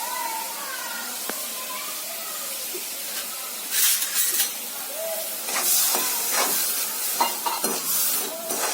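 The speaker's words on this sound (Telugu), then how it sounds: "ఇలా కలుపుతూ ఉంటే బెల్లం బాగా పాకం వస్తుంది." Jaggery melting in water into a thick syrup for coconut laddoos, stirred in a pan with a steady hiss and steam, scraping strokes of the spoon coming in uneven bursts, close and fairly loud.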